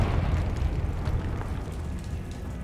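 A Confringo fire spell explodes in Hogwarts Legacy, a rolling, rumbling blast that fills the whole moment, loud and sustained with a deep low roar and no voices over it.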